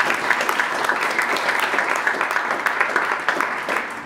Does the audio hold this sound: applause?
yes